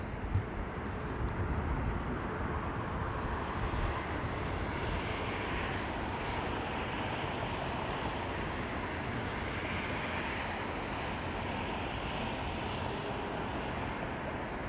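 A Boeing 777 and a Boeing 787 Dreamliner at London Heathrow produce a steady, distant jet roar that holds at moderate level for the whole stretch, broad and wind-like, with no voices.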